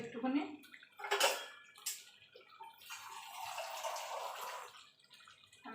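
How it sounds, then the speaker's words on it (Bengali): Water poured into a pan of Bengali-style chicken kosha curry cooked with fried spices, a splashing pour building over several seconds with a brief louder burst near the start. "সামান্য একটুখানি জল দিয়ে দেবো।"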